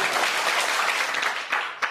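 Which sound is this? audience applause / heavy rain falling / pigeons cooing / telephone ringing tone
audience applause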